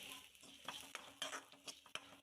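Onions and garlic frying in a pan for a breadfruit curry, stirred with a spoon: a soft sizzle under quick, light scraping strokes, faint and close, with no voices.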